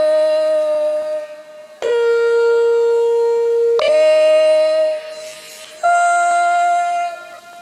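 Chopped, warped vocal samples in Ableton: sustained sung pitches jump abruptly between notes in short sliced segments, each cut starting sharply, with a brief noisy smear partway through; loud and close, no speech.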